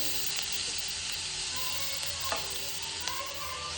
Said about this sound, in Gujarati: બીટને શેકવાનું છે.